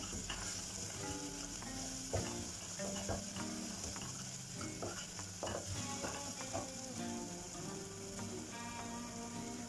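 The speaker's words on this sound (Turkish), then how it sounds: "Güzelce kavuruyorum. Çok güzel bir koku ortaya çıkıyor bu esnada." Minced meat filling with mint sizzling as it is sautéed in a pan for stuffed chard rolls, a steady frying hiss with scattered spoon scrapes and stirring clicks, close and continuous.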